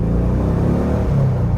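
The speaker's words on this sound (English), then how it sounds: "This is now just the exhaust note, and again, it's, to me, quiet, it's subtle" Low, steady exhaust rumble from a 1971 VW Bus air-cooled engine fitted with dual carburetors and a new exhaust, a subtle, even idle-like drone heard up close without talk.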